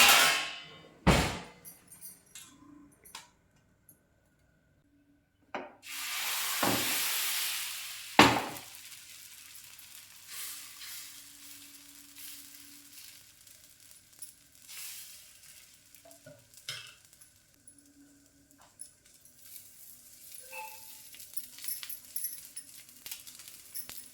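Neer dosa batter hits a hot pan with a sudden loud sizzle that settles into a quieter crackle, broken by sharp clinks and scrapes of utensils, with no talk.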